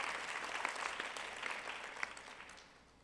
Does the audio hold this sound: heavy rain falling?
no